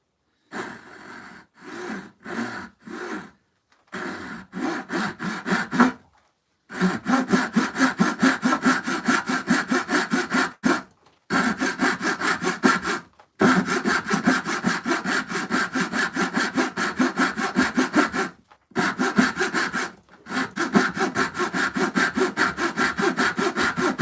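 A hand saw cutting wood in long, steady back-and-forth strokes, close and rhythmic, with several short pauses between runs of strokes and a little heavy breathing.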